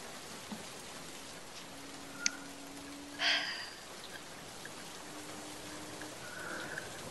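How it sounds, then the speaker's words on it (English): Rain falling in the video game Minecraft, a steady soft hiss throughout with a few brief faint tones and noises on top. "It's raining."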